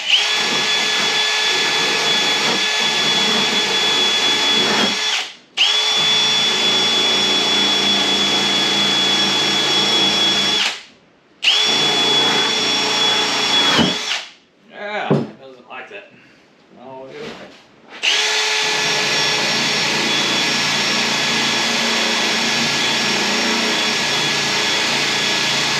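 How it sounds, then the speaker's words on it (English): A loud power drill spinning a wire brush on a car hood, grinding continuously in long runs with brief pauses and a choppy stretch in between. "So I got a water brush here on the drill."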